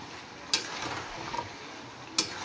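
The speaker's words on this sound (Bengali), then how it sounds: "এবার মাংসটা ভালো করে এবার কষিয়ে নেব" Chicken sautéed with cumin and chili powder in a pan, a constant close sizzle broken by two sharp clacks of a spoon against the pot.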